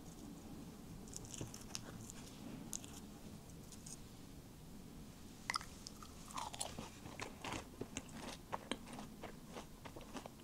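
A crunchy bite of food is chewed close to the mic, with quiet, irregular crisp crunches and soft chewing sounds over a faint background.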